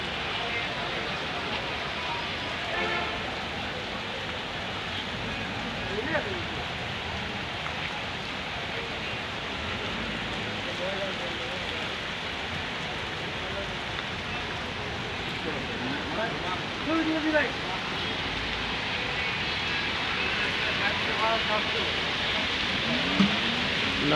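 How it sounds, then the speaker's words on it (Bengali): Heavy rain pours over the streets outside a market in Narayanganj city, making a dense, steady hiss that holds unbroken for the whole stretch, with a few faint knocks and clatters underneath. "নারায়ণগঞ্জ শহরে প্রচুর বৃষ্টি হচ্ছে।"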